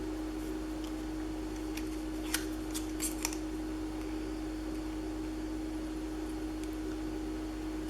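Long scissors snipping through branding strips during a craft session, a few sharp cuts clustered together over a steady background hum, fairly quiet and close.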